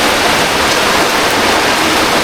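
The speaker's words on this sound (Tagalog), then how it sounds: "Bigla lumakas ang ulan mga katuba" Heavy rain pours down steadily in a flooded rural area on a muddy road, a dense continuous roar of water with no talking, loud and close throughout.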